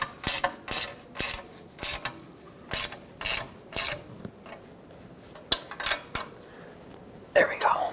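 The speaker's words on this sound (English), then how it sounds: "Now just tighten up these mounting bolts." A ratchet tightens the front catalytic converter mounting bolts on a 2008-2020 Dodge Grand Caravan, seating the pipe against the manifold gasket: a dozen or so short bursts of rapid clicking, close and fairly loud, separated by brief pauses.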